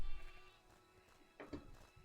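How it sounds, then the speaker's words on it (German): Sheep bleating in the Craftopia video game, a couple of short bleats standing out over a steady game music and ambient background. "Das Schaf randaliert hier gerade unseren Markt."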